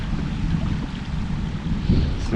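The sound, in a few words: strong wind at the water while fishing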